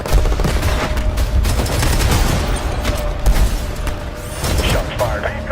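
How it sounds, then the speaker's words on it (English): Rapid gunfire and bursts in the shooter Robocop Rogue City, dense and loud throughout, with overlapping shots and booms over a steady backdrop. "Shots fired."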